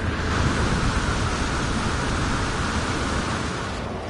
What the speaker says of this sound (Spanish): tormenta amainando